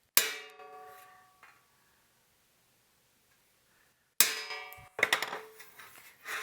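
A metal center punch is struck with a hammer to mark four drilling holes in a metal amplifier chassis, giving a sharp clang at the start and another strike near the end, with quiet handling noise between.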